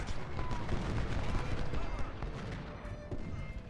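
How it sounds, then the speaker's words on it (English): Artillery cannon fire in the Civil War strategy game Ultimate General: Civil War, heard as dense overlapping booms and crackling volleys that continue steadily throughout, with a voice talking over the battle din. "Start counter battery firing their artillery positions."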